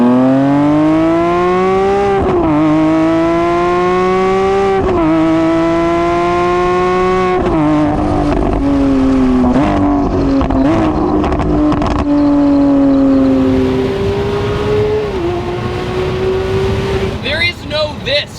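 A Lamborghini Aventador SVJ Xago cruises on the highway, its engine droning loudly with a steady tone that climbs in pitch through each gear and then steps down, while a person talks over it.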